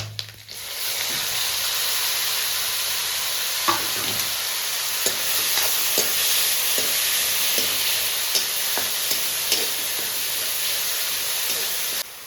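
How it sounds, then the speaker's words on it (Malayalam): Crushed shallots sizzle steadily in hot oil while being stirred for a chicken fry, with a constant loud frying hiss broken by regular spoon scrapes and clinks throughout. "അപ്പോൾ ചതച്ച"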